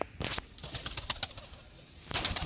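Giribaz pigeons with black tails coo softly and repeatedly at close range, with brief bursts of wing flapping near the start and end.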